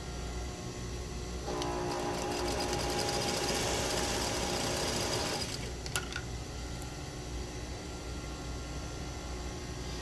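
A sewing machine stitches down the folds of a fabric face mask, its steady whirring run lasting about four seconds before stopping, followed by a sharp click in an otherwise quiet room.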